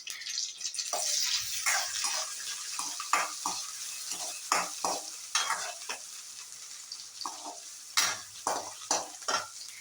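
Green chilies and curry leaves fry and sizzle in a pan of oil for a Tamil veg chicken kulambu, with steady close crackling and repeated stirring scrapes throughout, no voices.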